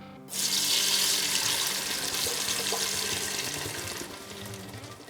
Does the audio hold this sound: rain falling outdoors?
no